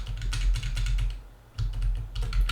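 Computer keyboard keys pressed in quick clusters, clicking close and distinct with a short pause in the middle, no talking.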